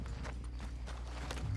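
Horse hooves clip-clop at a steady walking pace in Red Dead Redemption 2, moderately close and fairly quiet under a low game background.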